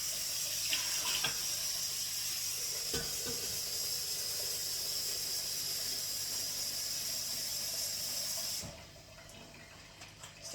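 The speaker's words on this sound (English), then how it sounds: "Just rinsing over here, rinsing the lid, rinsing the bowl." Kitchen tap running steadily to rinse a Thermomix lid and bowl, a continuous close hiss of water with light clatter, cut off near the end.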